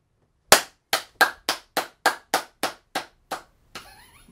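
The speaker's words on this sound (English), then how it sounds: "Clap your hands so I have sound." Ten sharp, evenly spaced hand claps ring out close and dry, each decaying quickly, followed by a faint burst of electronic game sound.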